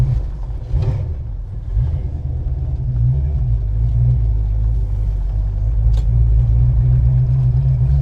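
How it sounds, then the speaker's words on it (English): A 1966 Ford Mustang coupe's four-barrel V8 engine idles with a deep, steady low rumble, close by and continuous, with no voices. "so it sounds like it was the four-barrel engine"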